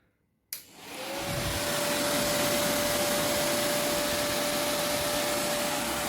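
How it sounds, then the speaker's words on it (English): An aftermarket radiator cooling fan kit on a Honda CRF450RL switches on and spins up into a strong, steady whirring blow with a thin whine, close and loud, holding constant after a brief surge. "I can feel the wind blowing very strongly on my hand here, so it's like a little vacuum cleaner."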